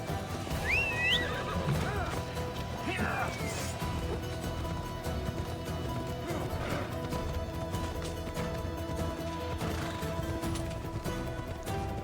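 A horse neighs and whinnies in Assassin's Creed Odyssey, with a sharp rising call near the start, then clip-clopping hooves and game ambience running steadily at moderate loudness.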